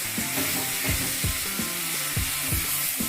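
Spice masala with turmeric powder being fried in a pan for restaurant-style palak paneer, giving a steady broad sizzle throughout with a melodic background tune underneath and no talking.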